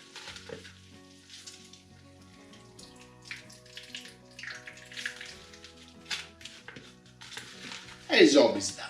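Salted aubergine is squeezed by hand so water drips and trickles out, soft wet splashes and patters over background kitchen hum, ending in a louder wet squelch.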